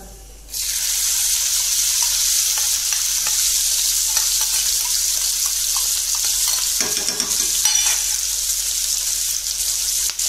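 Steady, loud sizzling of food frying in a pan, a continuous hiss with occasional stirring scrapes, no voices.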